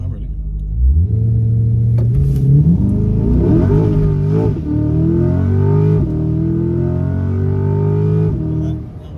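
A Chevrolet Corvette C8 Z51 launches hard from a standstill using launch control, its engine rumbling up through rising revs and gear changes for several seconds before easing off, loud and close, with brief talk nearby.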